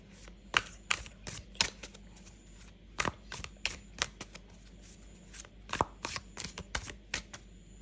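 A deck of tarot cards being shuffled produces a quick series of crisp riffling snaps and soft slaps, irregular and close, with no speech.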